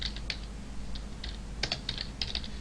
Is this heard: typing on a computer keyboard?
yes